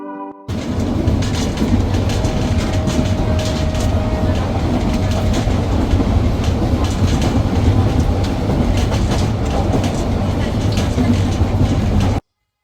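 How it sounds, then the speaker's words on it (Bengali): A night train travelling from Dhaka to Sreemangal keeps up a loud, continuous rumble with rhythmic clickety-clack from the wheels, heard close from inside the carriage. "তো অবশেষে আমাদের ট্রেন ঢাকা থেকে শ্রীমঙ্গলের উদ্দেশ্যে রওনা হয়ে গেছে"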